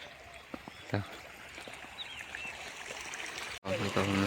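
Water rushes steadily from a motor-driven pump on a village farm in the morning, a constant close stream with faint bird chirps and a brief voice near the end.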